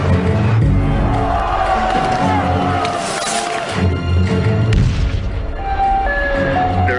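Street clashes on Kiev's Maidan Independence Square, with a loud crowd roaring and shouting, heavy booms and bangs breaking through, and sirens or whistles sounding amid the chaos.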